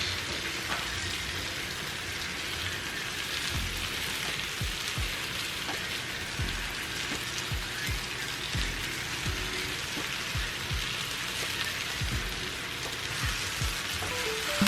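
Potatoes and onions frying in a cast iron skillet, a steady broadband sizzle and crackle with occasional soft scrapes or stirring taps, close and continuous with no talking.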